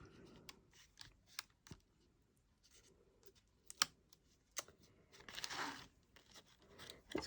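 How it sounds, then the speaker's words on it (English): Scissors make a few small, quiet snips through excess card while a Christmas card is being made by hand, with light crinkling and handling of the paper between the cuts. "We'll snip off that excess."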